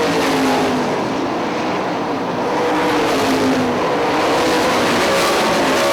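Sprint race cars roar around Hartford Speedway Park in 2005, a loud, unbroken wash of engine noise from the field that rises and falls slightly as the cars pass.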